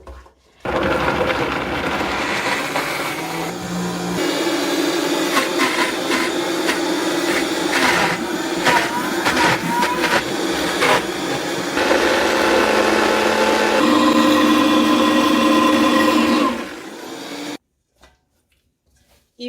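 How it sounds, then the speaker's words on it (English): An electric blender whirs loudly while blending cassava into dough, its motor pitch shifting as the load changes, with a brief pause and restart before it cuts off near the end. "So let's start the blending process."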